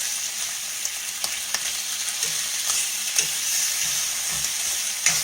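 Food sizzles and crackles steadily in a hot pan on a home stove while blueberry pancakes are being made, a continuous close frying hiss with small pops and no talk.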